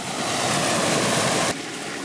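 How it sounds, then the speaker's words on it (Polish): A mountain stream swollen after heavy rains rushes with a loud, steady broadband roar, close and continuous, dropping slightly in level partway through. "A tak szumią górskie potoki. Po tych, po tych licznych opadach, które były w ostatnich dniach."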